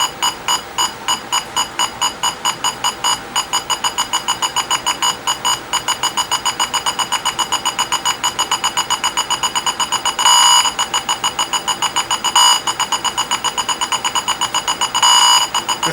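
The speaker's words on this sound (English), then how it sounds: "Closer you get, the faster the beep is." Steady electronic beeping from a 1973 Atari Gotcha arcade video game, a rapid train of evenly spaced tones that quickens at times, with a few longer held beeps, heard alone.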